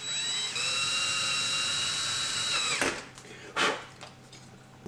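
A steady high-pitched whine of a small drill boring a hole through an eyeglass lens runs alone for about three seconds, then stops, leaving brief scraping and handling noises.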